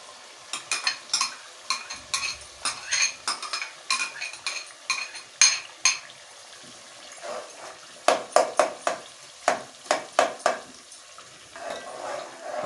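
Tomato paste stirred and fried in a pan for anda chanay curry: a spoon scrapes and knocks against the pan in an uneven rhythm over a soft continuous sizzle, close and clear throughout.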